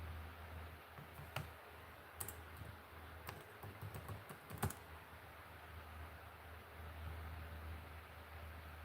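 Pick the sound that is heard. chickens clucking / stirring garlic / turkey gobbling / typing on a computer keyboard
typing on a computer keyboard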